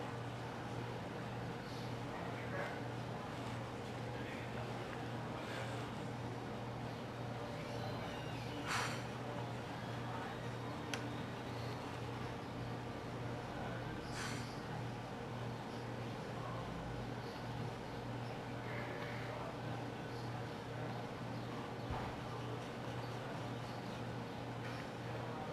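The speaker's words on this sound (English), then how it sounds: "if you hear a bunch of weird stuff in the background, it's just because I'm at a coffee shop" Steady background hum of a coffee shop, with low droning and scattered faint clatter and clinks, no clear speech in the foreground.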